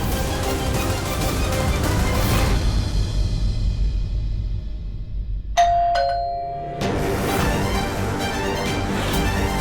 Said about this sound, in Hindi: दिव्यम जी तो घंटी बजने से पहले ही आ गए